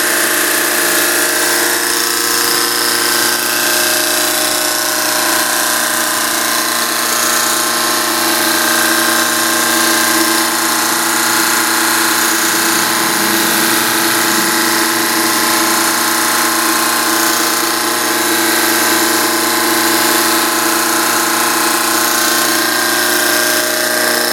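An engine runs steadily at about 900 RPM on a test rig, a loud, constant mechanical drone with a sustained hum filling the whole stretch, no talk.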